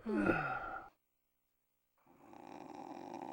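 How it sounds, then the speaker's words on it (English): Video game character in Parasite Eve 2 snoring, a single close snore followed by a short silence, then a quieter breathy rasp. "I like that he's snoring there."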